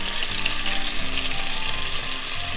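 Garlic and ginger fry in a hot pan, a loud, continuous crackling sizzle that stays steady and close for the whole stretch, with no talking.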